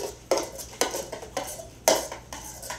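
Meatloaf ingredients are stirred in a bowl with a utensil, giving a series of close scraping, clinking strokes about every half second, with no talk.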